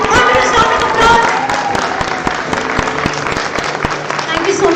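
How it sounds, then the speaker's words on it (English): Thunderous applause for veterans at a 2022 graduation ceremony, a loud sustained roar of clapping from a large crowd with sharp individual claps standing out, and a voice speaking over it. "Can we have a thunderous round of applause?"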